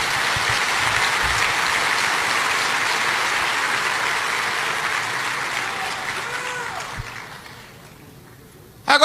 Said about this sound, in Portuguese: Se é para aplaudir, aplauda com vontade,